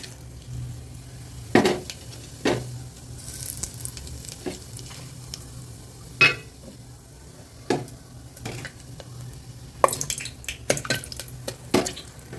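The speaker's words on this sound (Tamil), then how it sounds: "எண்ணெய் நல்லா காஞ்சிச்சு இப்போ இந்த பட்டை கிராம்பு இதெல்லாம் போடலாம்" Cinnamon and cloves dropped into hot oil for tomato rice, a light crackling sizzle with a few sharp clinks and scrapes of a spoon against the pan, close and intermittent.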